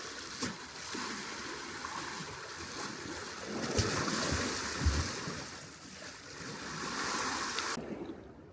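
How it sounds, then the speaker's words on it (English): Ocean waves splash on the seashore by the promenade at Goodrington at night, a continuous broad wash of surf with swelling surges and light wind noise. "as we listen to the waves splash on the seashore"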